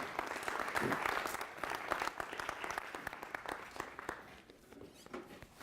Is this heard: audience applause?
yes